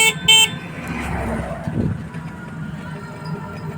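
A vehicle horn gives a short, loud toot at the start, followed by a rumble of motor and road noise that fades to a steady background.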